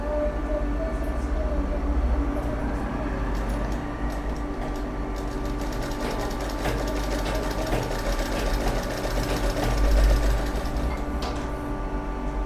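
Cloth feeds through a sewing machine in a long, steady mechanical whir with a rhythmic chatter, heard close up and alone.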